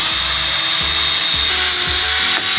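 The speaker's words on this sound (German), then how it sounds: "Ich habe gerade mal ein paar Bohrungen gemacht, um hier das Laufwerk von der PlayStation drauf zu schrauben." Power drill boring holes into a casing to mount a PlayStation disc drive during a console rebuild, a loud steady whine with several rhythmic pulses as the bit bites, close and alone without talk.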